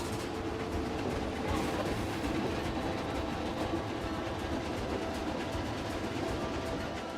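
A train pulls through a station in the park-building video game Planet Coaster 2, giving a steady, fairly loud rolling rumble with faint rail clatter that carries through the whole stretch without talk.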